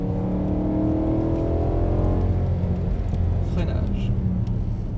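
A 420 hp BMW E92 M3 V8 pulls hard on a track, its engine note rising and droning loudly and steadily up close, with a voice talking over it.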